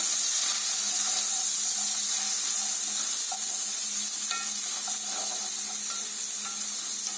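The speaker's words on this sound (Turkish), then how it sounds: "Soğanlarım iyice çıtırdamaya başladı." Steady, crackling sizzle of onions frying in a pot, continuous and fairly loud throughout with a few small clinks and stirring sounds.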